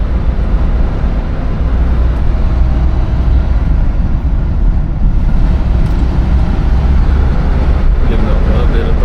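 A 1966 Cadillac Eldorado V8 drones steadily while cruising at around 35 to 40 mph, a continuous low rumble filling the cabin with road and wind noise.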